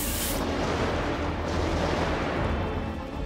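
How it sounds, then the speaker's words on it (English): Gunfire in GTA 5 roleplay booms out in a dense, loud barrage of overlapping shots and blasts, heavy and continuous. "Shots being fired."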